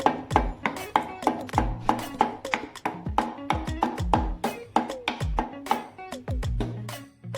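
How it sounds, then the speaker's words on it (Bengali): Four or five cardamom pods are crushed for jackfruit seed halwa, giving a close, steady run of sharp, hard knocks in a quick repeating rhythm, with no talking. "চার পাঁচটা এলাচ গুঁড়া করা হচ্ছে।"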